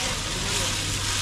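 Onion, cashews, green chilli, cinnamon, cloves and bay leaf fry in ghee for ghee rice, a dense constant hissing sizzle with a low hum beneath, loud and unbroken.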